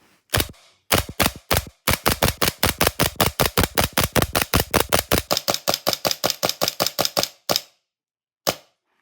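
An EMG Staccato C2 airsoft gas pistol fires full auto in a long, rapid string of sharp cracks lasting several seconds, then a lone single shot, loud and close.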